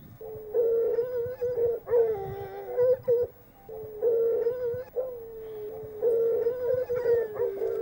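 Ariégeois and bleu hunting hounds bay on a hare's trail beside a bramble thicket, giving repeated long, wailing howls in overlapping bursts, fairly close and loud, with no talk.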